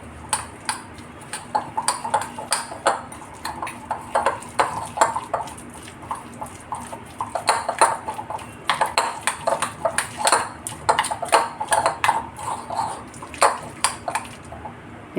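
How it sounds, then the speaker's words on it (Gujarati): A spoon stirring sandwich filling in a bowl while making a cheese grill sandwich, giving quick repeated metallic clinks and taps against the bowl, steady and close throughout. "હવે આપણે આને હલાવી લઈશું."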